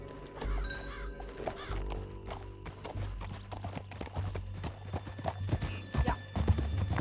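Horse hooves clip-clop in a steady gallop in Red Dead Redemption 2, close and rhythmic, with a whinny early on and a musical score beneath.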